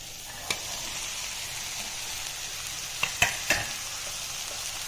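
An onion, black-eyed bean, toor dal and drumstick leaf mixture sizzles steadily in a pan, with a few sharp scrapes and clicks of stirring standing out near the start and toward the end.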